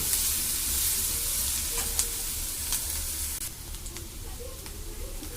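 Onions fry with salt in a pan, a steady close sizzle with occasional scraping stirs, easing slightly toward the end.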